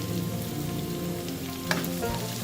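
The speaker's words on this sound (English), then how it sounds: "Let's saute these ingredients for 2 minutes." Onions, curry leaves and fennel seeds sizzle steadily in a hot pan for curry leaf black pepper chicken, a dense, even frying hiss heard up close with a brief stir clink near the end and no voices.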